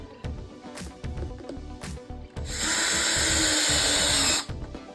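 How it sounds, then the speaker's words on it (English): Power drill fastening parts of a Venco pottery seat: a short whir, a couple of brief bursts, then one sustained high-pitched drilling run of about two seconds before it stops. "if you haven't used drills before, it's not as scary as it looks"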